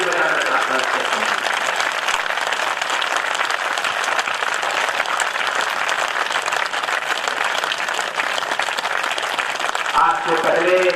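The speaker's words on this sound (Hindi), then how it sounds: "आपका तालियों का शोर ही सुनना चाहता हूं" Listeners at a national Hindi poetry gathering applaud in a dense, sustained roar of clapping that runs on evenly throughout, with voices faintly mixed in near the end.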